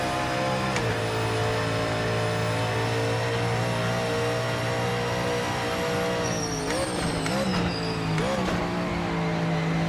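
A Mazda 787 race car in the Project Motor Racing video game drones with a continuous loud engine tone, holding steady before brief pitch drops and rises near the end, with no talk.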